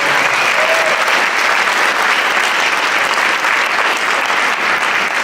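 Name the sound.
audience applause at an inauguration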